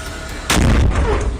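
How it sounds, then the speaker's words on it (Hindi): A loud, sharp explosion from a rocket attack in Tel Aviv bursts suddenly, then rumbles and echoes for about a second. Faint background noise comes before the blast. "TV9 भारतवर्ष के कैमरे में तेल अवीव में हुए धमाके और दहशत की तस्वीरें कैप्चर हुई"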